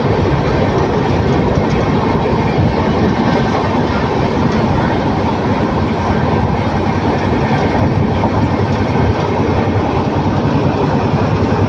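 A passenger train from Coimbatore to Erode picks up speed, with a loud, steady rolling rumble and rattle of the carriages heard from inside, filling the whole stretch.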